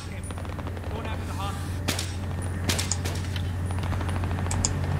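Battlefield 3 gunfire rattles in rapid, sharp shots and bursts, some louder cracks standing out over a steady low rumble of battle.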